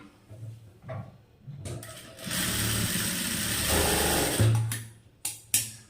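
A sewing machine stitches a dart into a blouse in a steady, fairly quiet whirring run of a few seconds, framed by short clicks and handling noises before and after.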